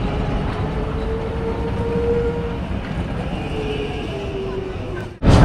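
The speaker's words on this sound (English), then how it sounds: "here there is a tram also in the middle of the city." A city tram passes through central Medellin, Colombia, a steady loud rumble with a faint rising whine, ending in a sudden loud burst close by.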